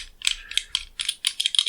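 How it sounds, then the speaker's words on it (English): Quick bursts of small metallic clicks and ratcheting as the thread protector is spun off a threaded Glock 9mm barrel, in short uneven clusters, close and crisp. "I forgot this is a threaded barrel. I'm gonna undo the threads real quick."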